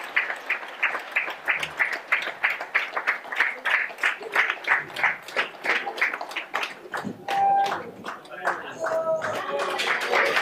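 Applause at a regional entrepreneurship awards gala, heard as a run of rhythmic claps from a modest crowd that gives way to scattered clapping and voices talking over it.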